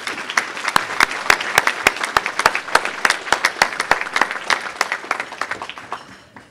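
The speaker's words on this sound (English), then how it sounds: "Let's have a nice round of applause for National Grid." Audience applause at a United Way of Greater Plymouth County annual meeting, a steady crowd clapping with sharp individual claps standing out, loud and close for several seconds before easing off.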